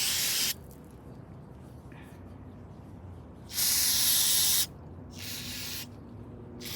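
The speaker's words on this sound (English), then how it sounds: "Good old carburetor cleaner. Now, do I have that in this kit" Carburetor cleaner is sprayed onto the barrel of a Glock 22 .40 caliber pistol, in two loud, steady hissing bursts of about one second each. A brief quieter spritz comes first and a softer spray trails off afterward.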